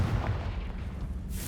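A Confringo spell blast in Hogwarts Legacy goes off as a short, loud, low booming burst with rumbling crackle, close and dense, fading into a brief hiss.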